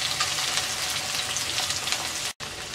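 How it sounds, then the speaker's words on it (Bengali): Chopped garlic and onion frying in hot oil with cumin for a snake gourd and dal curry, a dense, steady close sizzle throughout, broken by a brief cut near the end. "এবার পেঁয়াজ রসুনটাকে হালকা ভেজে নেব।"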